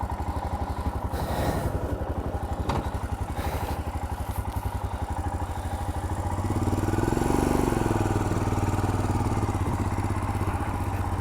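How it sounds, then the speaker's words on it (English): A Royal Enfield Himalayan single-cylinder motorcycle engine idles close by with a steady, rapid thump that swells slightly louder toward the end, with no talk over it. "Quite a satisfying little purr from the single cylinder engine."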